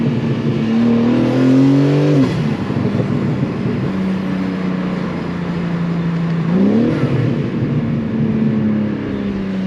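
A loud modified BMW G80 M3 exhaust revs hard, rising and falling in pitch through two throttle blips with downshifts, a continuous close engine roar throughout.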